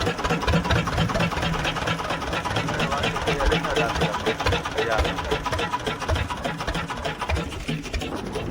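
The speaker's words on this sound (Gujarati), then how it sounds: "સ્લોમાં મશીન ધીરે ધીરે હલાવતા જાય" A fishing boat engine chugs steadily at low revs, a continuous mechanical drone running throughout, with faint voices in the background.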